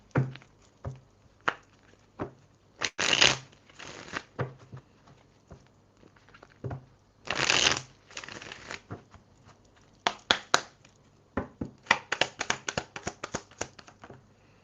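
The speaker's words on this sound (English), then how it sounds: "I shuffled the deck" A deck of tarot cards is shuffled by hand in close, papery bursts and riffles, with taps and soft handling noises in between, and no voices.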